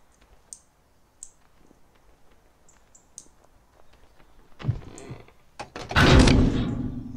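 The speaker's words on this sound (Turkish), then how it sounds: "Metal kırılma sesi." Sudden loud crash of breaking metal in the Bonbon horror game, after a few sparse faint clicks, swelling into a harsh, noisy clatter that lingers.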